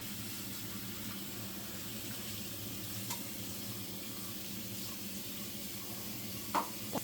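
Bagoong shrimp paste cooks in a pan for Bicol Express, giving a soft, steady sizzle with faint frying crackle, and two brief clinks come near the end.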